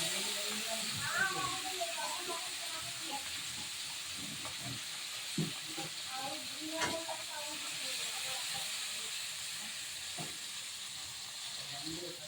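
Fish frying in oil in a pan gives a faint, steady sizzling hiss with soft crackles and occasional utensil taps, and voices murmur faintly in the background.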